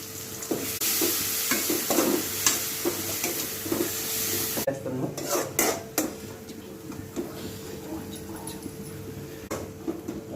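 Ginger garlic paste frying and being stirred in a pan for army style chicken curry, a steady close sizzle with scraping stir strokes throughout.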